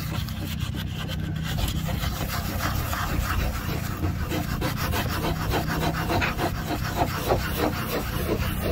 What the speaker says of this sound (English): we're going to take our 3000 grit sandpaper, pull this off a sheet, fold it in half, and just go at it